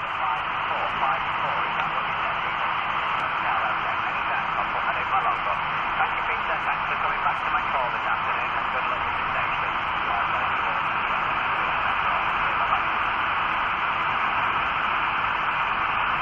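Faint shortwave signal on the 20-meter band, received on a Tecsun PL-368 portable receiver, buried in steady hissing static and radio noise that runs throughout without a break.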